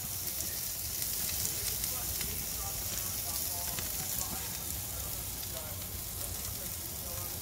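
Ribeye steak sizzling on a Char-Griller Grillin' Pro grill over indirect heat, a steady close crackling hiss that runs throughout while someone talks over it.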